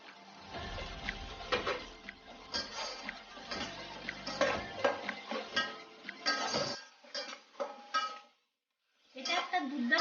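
Egg mixture with chili powder and salt being mixed in a bowl, a busy run of clinking, scraping utensil strokes against the dish, steady and close, pausing briefly near the end before resuming.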